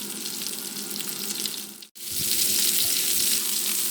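Meatballs sizzling in a frying pan, a loud steady hiss of hot fat with a brief dip near the middle before the crackle resumes at full strength.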